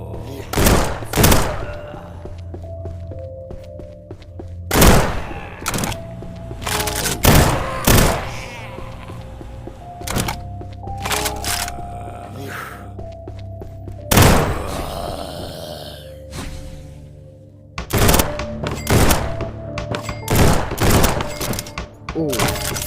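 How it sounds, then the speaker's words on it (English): Burst-fire weapon shots ring out in a VR zombie shooter modeled on Call of Duty Zombies, with loud repeated clusters of gunfire separated by short pauses and some talking. "Oh, of course it's a burst weapon."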